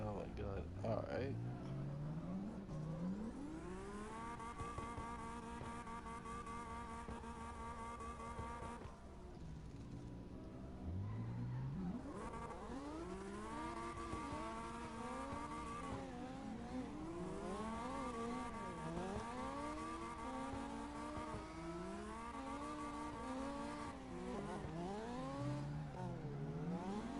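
A car engine in the CarX Drift Racing video game revs and shifts through rising and falling pitches, sustained and loud for the whole stretch, with a person talking over it at times.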